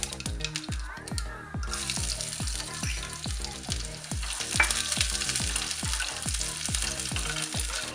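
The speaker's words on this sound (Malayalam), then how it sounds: "കടുക് പൊട്ടി തുടങ്ങുമ്പോൾ നമുക്ക് ഉള്ളി അരിഞ്ഞത് ചേർക്കാം." Chopped onion and popping mustard seeds fry in hot oil for a Trivandrum-style fish curry, a steady loud sizzle with a regular rhythm of stirring scrapes throughout, no voices.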